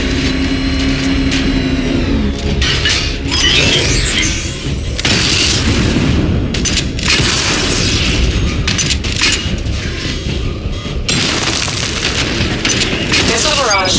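Explosions and mechanical clanks from destroying targets in Batman: Arkham Knight, a dense, loud barrage of booms and whirring machinery with bursts throughout, under a synthetic announcer voice.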